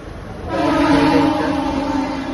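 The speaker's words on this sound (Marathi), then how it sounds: "गाडी आली आता, गाडी पकडू आणि जाऊ" An arriving train's loud, sustained horn blares close by at a station over the rumble of the train, holding steady for a couple of seconds.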